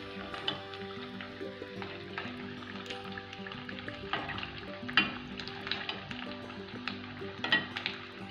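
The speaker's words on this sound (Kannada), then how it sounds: "ಚಿಟ ಚಿಟ ಅನ್ನುತ್ತೆ ನೋಡಿ ಸಾಬುದಾನಿದು" Sago pearls (sabudana) frying in hot oil, crackling and sizzling steadily with dense pops and occasional stirring, close and fairly loud with no talk.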